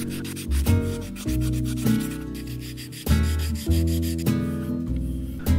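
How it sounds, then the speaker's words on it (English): Repeated rubbing strokes of hand sanding on a 1961 Murphy B485 radio cabinet, rhythmic and close, heard over steady background music. "Lots of sanding."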